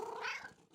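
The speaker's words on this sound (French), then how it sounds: "Maman et Caillou entendirent un miaulement discret." A cartoon cat gives a short, soft meow, a single brief wavering cry that fades out quickly, heard alone.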